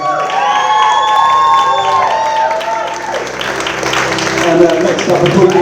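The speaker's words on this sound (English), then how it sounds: "Massive round of applause, ladies and gentlemen." Wedding guests at Allington Castle applaud and cheer loudly, a dense burst of clapping with whoops and shouts, while music plays and voices carry over the crowd.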